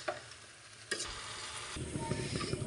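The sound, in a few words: stirring chalta (elephant apple) pickle in pan on medium flame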